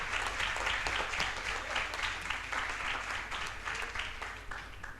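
An audience applauds at a public hearing on alcohol, drugs and mental health, a continuous dense patter of many hands heard from a moderate distance, tapering slightly near the end with no speech over it.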